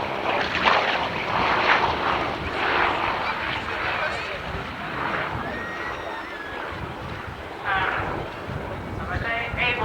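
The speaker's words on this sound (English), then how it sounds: "Alan Walker in the big Avenger, the torpedo-carrying bomber, moving in quite fast at a top speed of 270 miles an hour" At an airshow, a Grumman Avenger torpedo bomber passes with a broad engine roar that rises and falls. A commentator talks steadily over the aircraft noise.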